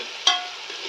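Green peas fry in oil in a pan for matar pulao, giving a steady close hiss of sizzling with one sharper stir or clatter near the start, no voices.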